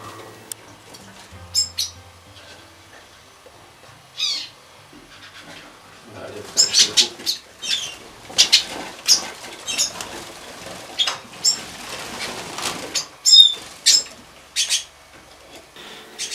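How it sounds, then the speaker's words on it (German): Young Yarrell's siskins fly about an aviary with adult Yarrell's siskins, black-chested and yellow-bellied siskins, giving scattered short high chirps and twitters alongside soft wing flutters and rustling, in bursts that grow busier toward the end. "Gemeinsam mit Schwarzbusch-Zeisige und Gelbbauch-Zeisige fliegen die jungen Jarell-Zeisige mit Altvögel-Jarell-Zeisig umher."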